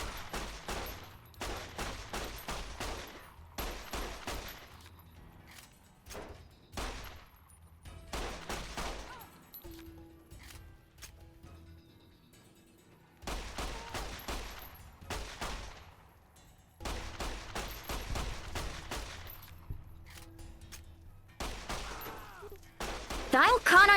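Pistol shots in Fallout: New Vegas ring out in repeated bursts of rapid cracks, grouped in several volleys separated by brief lulls, moderately loud against a quiet game background.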